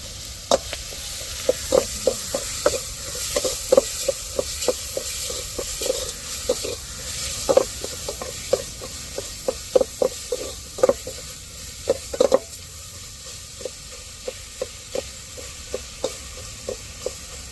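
Ground ginger-garlic paste sautéing in a pan for a chicken curry, crisp sizzling under a string of sharp spatula scrapes and taps in an uneven rhythm, close and fairly loud.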